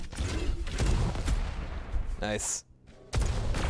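Rocket and shotgun fire in a Juked.gg duel match, several sharp blasts and rumbling bursts over steady game noise, with a short voice and a brief high whine near the end.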